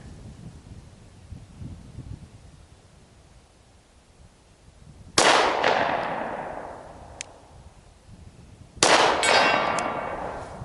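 Two sharp rifle shots ring out outdoors, each followed by the metallic clang of a bullet striking a steel target about 80 yards away, a loud crack decaying into a long ringing tail over light wind.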